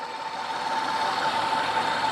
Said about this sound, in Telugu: సైలెంట్ ఉంది ఇంజన్ కూడా